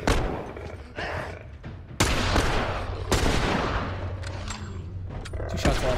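Gunfire in The Last of Us, played on PC: several loud, sharp shots with booming tails, including a heavy blast near the middle, spaced irregularly and separated by quieter rumbling gaps.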